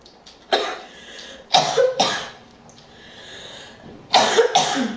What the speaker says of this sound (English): I'm sorry about that coughing.